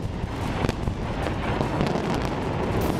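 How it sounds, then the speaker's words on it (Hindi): Explosion in a Gaza street during an Israeli air strike, heard as a dense, rumbling roar that holds steady for the whole stretch, with occasional sharper cracks and no clear voices. "तभी बीच सड़क पर अचानक एक जोरदार धमाका हुआ।"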